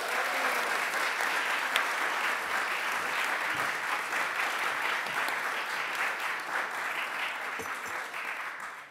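Sustained audience applause for Chris Pratt at a Guardians of the Galaxy press conference, a broad even wash of many hands clapping that holds steady for the whole stretch.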